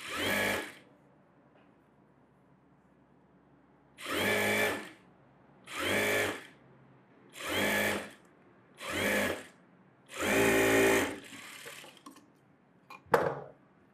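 A tailor's sewing machine stitches a net-model blouse in six loud, close bursts of rapid whirring, separated by short quiet pauses, with a few small clicks and knocks toward the end.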